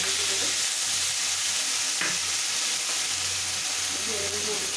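Chopped onion frying in oil with dried red chilies and cumin seeds, a loud, dense, continuous sizzle and crackle close up, with faint background music underneath.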